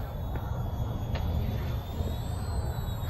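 An Eachine E119 beginner RC helicopter hovers while coming in to land, its rotor giving a steady whirring hum with a thin high motor whine over a constant noisy wash.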